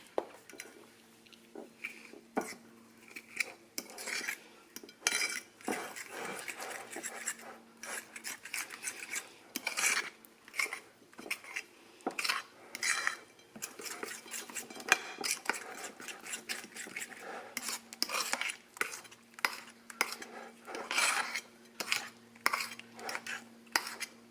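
A food mixture is stirred in a bowl, with repeated scraping and rubbing strokes and occasional light clinks of a utensil against the bowl, close and fairly quiet in irregular bursts.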